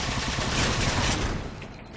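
Sustained turret gunfire from the video game Halo 4, a dense, continuous rattle of rapid shots that stays loud throughout and eases slightly toward the end.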